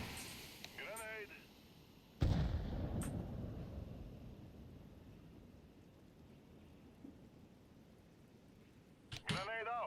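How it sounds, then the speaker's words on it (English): A grenade explodes in the video game Counter-Strike 2, a sudden loud blast followed by a long rumbling decay, with smaller clicks and a later sharp burst; a voice talks in the background. "I'm throwing a grenade"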